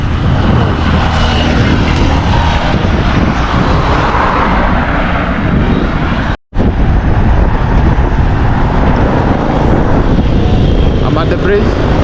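Traffic rumbles steadily across a bridge in Nairobi, a loud continuous roar of passing vehicles with a brief dropout midway and faint talking underneath.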